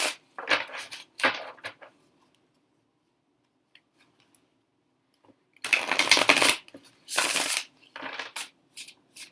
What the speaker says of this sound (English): we're going to mix them back into the deck and shuffle in order to make our piles